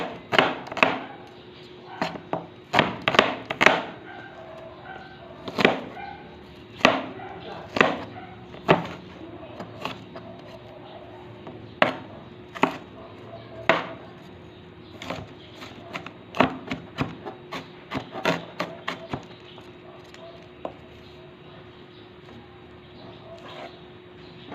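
Knife chopping carrot on a cutting board during home cooking, a series of sharp irregular thuds in bursts with pauses, fairly close, over a steady low hum.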